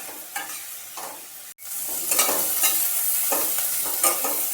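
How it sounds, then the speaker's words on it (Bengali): Bitter gourd fries in oil in a pan, a steady sizzle broken by repeated stirring scrapes and one brief sharp knock. "একটু ভাজতে হবে উচ্ছে, আরও একটু।"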